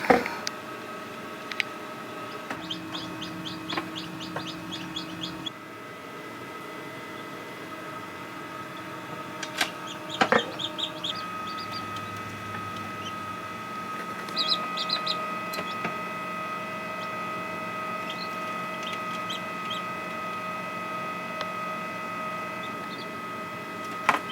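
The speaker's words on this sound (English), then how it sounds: "the chicks are doing really good. They are still in the incubator" Newly hatched chicks in an incubator give high, faint peeping bursts scattered over a steady electrical hum and faint ticking, with quiet gaps between calls.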